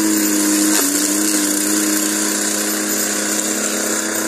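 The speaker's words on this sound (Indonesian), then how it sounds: "Mesin pengikis tanah ini murni adalah pengembangan dari kami." A T14-S50 soil scraping machine for clearing oil palm plantation circles runs steadily at close range, a continuous loud mechanical engine drone with a steady hum and a brief knock near the start.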